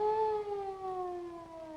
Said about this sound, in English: That sounds like a police car to me.